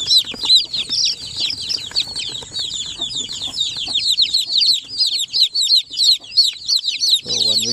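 One-week-old native Zampen chicks crowded in a cardboard box, peeping constantly in a dense, high-pitched chorus, loud and close, with a brief low rustle near the end.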